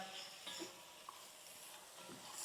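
Mixed sprouts sauté in a pot with a soft, steady sizzle and occasional light stirring scrapes, quiet and close.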